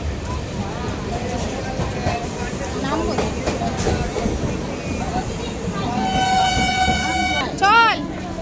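A train pulls into Dum Dum station, its rumble building steadily beneath a crowd of voices before a loud horn sounds near the end, followed by a brief sharper toot.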